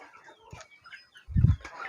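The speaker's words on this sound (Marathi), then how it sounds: "हे बघा आता कशा घास खात्या कोंबड्या सगळ्या" Chickens on a poultry farm cluck softly and intermittently close by as they eat grass, with one low, muffled thump partway through.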